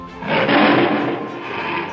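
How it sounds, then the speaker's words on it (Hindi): A tiger lets out a single loud, close, sustained roar, rough and rumbling, lasting nearly two seconds without any talking. "टाइगर्स जब दहाड़ते हैं तो उनकी दहाड़ 3 किलोमीटर दूर तक सुनाई दे सकती है"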